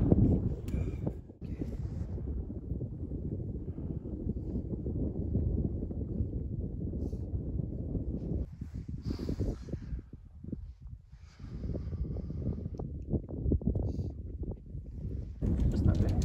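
Cold wind buffets a microphone on a high mountain pass at about 12,700 feet in the Maroon Bells Snowmass Wilderness of Colorado, a steady rough rumble with gusty swells and a few brief lulls.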